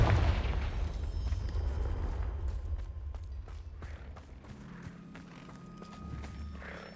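In Hogwarts Legacy, a Levioso lift is followed by a Confringo fire spell exploding with a deep, rumbling boom near a Thestral nest. Rough low debris sounds and scattered clattering follow as the blast dies away.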